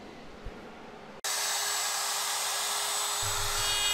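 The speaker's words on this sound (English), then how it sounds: "If you have a carbide bit, it will cut through any exotic wood, no problem at all." After about a second of quiet room tone, a router fitted with a carbide bit cutting exotic wood switches on and holds a loud, steady, high-pitched whine that runs unbroken to the end.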